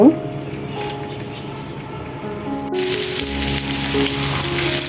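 Cubed potatoes fry in oil for chicken biryani, a steady sizzle that grows louder and denser partway through, with a faint chirp-like tone above; someone talks briefly at the start.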